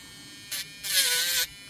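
Dspiae micro sanding pen running at high speed against PLA plastic, a close, loud electric buzz in two bursts: a brief blip, then a longer half-second grind.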